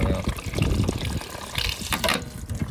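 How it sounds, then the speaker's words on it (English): Water sputtering and gushing from a valve on the water heater of a Grand Design Imagine XLS 17MKE travel trailer being filled during de-winterizing, a continuous close splashing with louder spurts toward the end. "There's some water coming out."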